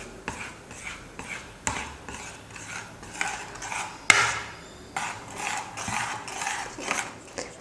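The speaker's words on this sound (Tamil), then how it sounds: "கை விடாமல் நல்லா கலந்து விட்டுக்கிட்டே இருங்க." A ladle working rice flour dough around a pan on the stove, a steady run of scraping strokes with sharper clanks against the metal, close up and fairly loud, without talk.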